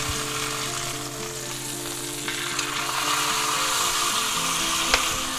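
A seasoned chuck roast sears in a hot pan, giving a loud, continuous sizzle and crackle close up, with a few light spatters and a brief clink near the end.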